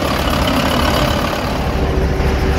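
A Kato 25-ton mobile crane with a Nissan diesel engine runs steadily at idle, giving a loud continuous low rumble with a faint whine, nearby and alone.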